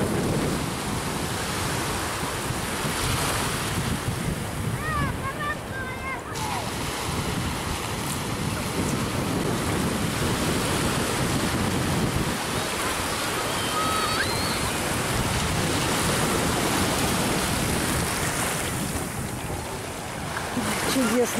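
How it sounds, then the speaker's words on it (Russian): Sea waves roll steadily onto the beach at Haifa, with continuous broadband surf and wind buffeting the microphone throughout, loud and close with no clear breaks. "Видите, какие там волны?"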